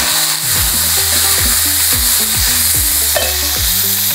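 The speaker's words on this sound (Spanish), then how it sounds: "Ponemos un poco de aceite en la sartén y a continuación añadimos la cebolla ya picada." Chopped onion sizzles loudly in hot oil in a frying pan for a Spanish leek and prawn pie recipe, a dense close-up crackle with rhythmic stirring scrapes throughout.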